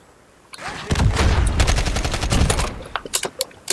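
Rapid bursts of AK-12 rifle fire in the video game Modern Warfare (2019), with a dense, loud volley followed by shorter spaced shots tapering off.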